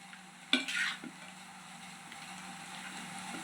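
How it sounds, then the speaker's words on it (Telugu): Mutton curry with salt, chilli and turmeric is stirred in a pan, a brief loud scrape and clatter of the spoon followed by a low, steady sizzle. "ఇప్పుడు మటన్ కలుపుకున్నాం కదా ఇలాగా ఉప్పు కారం పసుపు వేసి"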